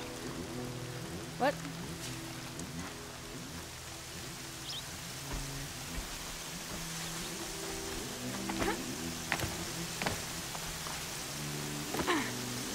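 Rain falls as a steady hiss and patter in the video game Horizon Zero Dawn, with scattered drop taps and faint game tones underneath, while a player briefly speaks.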